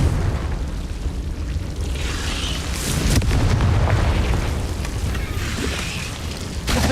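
The Confringo spell goes off in the video game Hogwarts Legacy, loud fiery explosions and rumbling booms rolling on without a break for several seconds, with shouted voices faintly mixed in.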